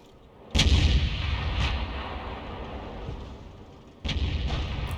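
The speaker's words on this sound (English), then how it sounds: "I hit the AMX-30B and the T-30 with the same shot." Two heavy booms from M53/M55 self-propelled artillery in a tank combat video game, the first near the start and the second about three and a half seconds later, each followed by a long rumbling decay, with no talking.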